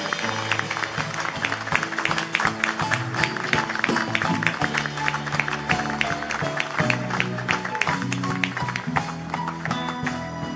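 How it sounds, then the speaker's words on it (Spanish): A standing congregation gives Monseñor Moya a strong round of applause at the 60th-anniversary celebration of the San Pío X seminary in Santiago: dense, sustained clapping over steady music, without pause. "Y le dan un fuerte aplauso."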